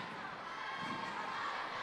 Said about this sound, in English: And a very enthusiastic crowd.